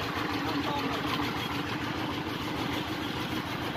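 A motorbike engine idles steadily at close range, a low continuous rumble with a regular pulsing beat, heard in a rural home setting with some voices around it.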